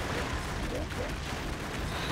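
Dense, continuous rumbling blasts fill a short stretch of the run-and-gun game BroForce, with overlapping explosions and crackling debris loud throughout and voices mixed in.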